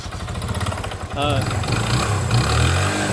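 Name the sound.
Rusi 135 motorcycle engine running roughly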